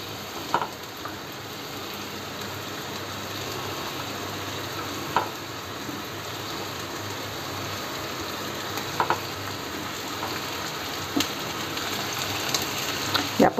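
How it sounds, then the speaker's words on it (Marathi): Stuffed bell peppers set in a hot pan on a low gas flame give off a steady soft sizzle and frying hiss, with a few faint clinks and taps from the pan over about fourteen seconds. "तर आता ह्या मिरच्या ज्या आहेत मी भरून घेतलेल्या ह्याच्यावर लावते, आणि मग गॅस कमी करायचा."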